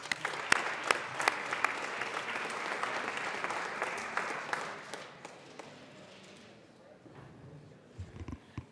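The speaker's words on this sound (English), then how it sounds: "I'd like to give them a round of applause for the excellent work that they do" Applause in the Colorado House chamber during a legislative session, a crowd clapping for several seconds with a few sharp individual claps before it dies down, followed by brief talking.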